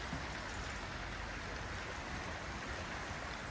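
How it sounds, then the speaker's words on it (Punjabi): Rainwater left from a morning downpour in Italy flows past in a faint, steady, unbroken rush, like a small stream. No voices. "ਜੋ ਸਵੇਰੇ ਮੀਂਹ ਪਿਆ ਹੁਣ ਜਾ ਚੱਲਿਆ ਹੁਣ ਪਾਣੀ ਇਧਰ ਨੂੰ ਪੂਰਾ"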